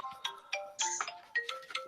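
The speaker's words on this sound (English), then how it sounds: "My phone just started ringing" A mobile phone ringtone plays a bright electronic melody of quick, stepping tones in short repeated phrases, clear and fairly close with no talking over it.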